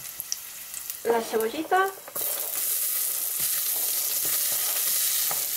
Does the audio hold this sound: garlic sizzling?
yes